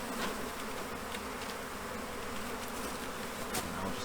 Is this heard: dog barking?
no